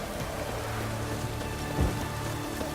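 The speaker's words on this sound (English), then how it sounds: "It's raining, of course it's going to be damp." Rain falls continuously in The Witcher 3: Wild Hunt as a dense, even patter, with a brief low rumble near the end and no voices.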